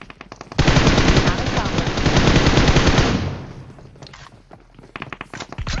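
Rapid automatic gunfire rattles loudly and continuously for a few seconds in a shooting video game, then fades to sparse thuds and footsteps.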